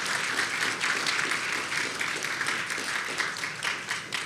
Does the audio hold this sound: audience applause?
yes